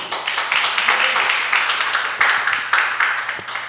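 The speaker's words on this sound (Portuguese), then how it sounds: "Você pode dar um aplauso ao Senhor Jesus?" A church congregation claps together in a steady, rhythmic burst of applause during a worship service, with the sound filling the room for a few seconds.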